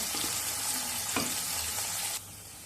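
Potatoes fry with salt and turmeric in hot oil, giving a loud continuous sizzle with one brief scrape of stirring before the hiss drops in level near the end.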